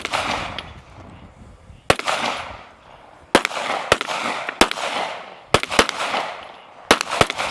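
Pistol shots crack out at a tactical games competition stage, sharp and loud, coming singly and in quick pairs with short pauses between strings.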